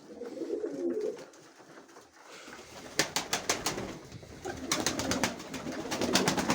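Pigeons coo steadily inside a loft, their low throaty calls rising and falling, with rustling and brief wing flaps joining in the second half.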